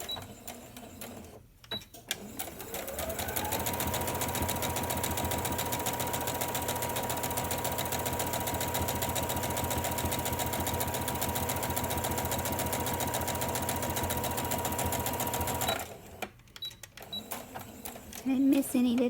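A sewing machine runs steadily for about thirteen seconds, stitching a quarter-inch folded edge on a fabric face mask with a pocket and wire, close and loud; brief talk comes before and after the run.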